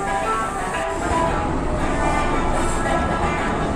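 Pakistan Railways' Safari Tourist Train with vintage coaches runs between Rawalpindi and Attock, giving a loud, continuous rumble and rattle that stays steady throughout.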